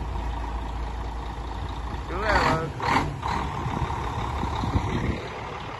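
A large truck's engine rumbles steadily nearby, broken by two short bursts of hissing air brakes midway, while people talk over the noise.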